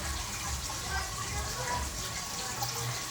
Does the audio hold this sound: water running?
yes